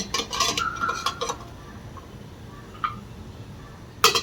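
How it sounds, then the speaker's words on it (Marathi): Metal idli plates spread with sabudana clink and clatter as they are set one by one into a steamer pot of boiling water, sharp metallic knocks in bursts with pauses between. "एक एक प्लेट त्यामध्ये टाकू."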